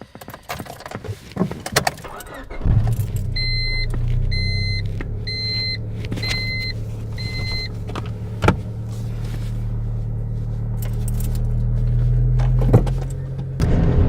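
A 1998 Honda Civic starts up with a few door-chime beeps and keys jingling, then its engine settles into a steady close rumble with occasional clunks as it begins to drive; no talking.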